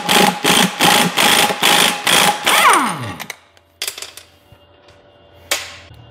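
An impact wrench hammers rapidly in repeated bursts as it removes a piston nut from a hydraulic cylinder, loud and close, then stops, followed by a few metallic clanks from handling the parts.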